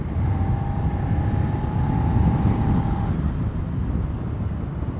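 A Suzuki SV650X motorcycle cruising at under 4,000 RPM, with a steady low engine rumble and heavy wind rush on the microphone throughout, plus a faint faint whine in the middle.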